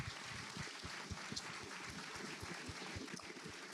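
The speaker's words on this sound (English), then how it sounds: "A round of applause for that vulnerability," Podcast studio audience applauding, a steady dense patter of many hands clapping at moderate volume without talk.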